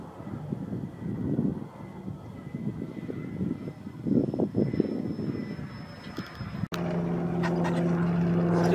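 A Freewing AL37 Delta 737 model jet makes a low pass, its electric ducted-fan whine rising and falling as it sweeps by, loud and nearby, then a steady high whir after an abrupt cut near the end.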